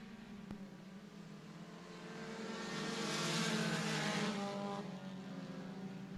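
Sport compact stock cars roar off together at the start of a speedway heat, engines revving and swelling louder as the pack passes close by, with a faint tire squeal.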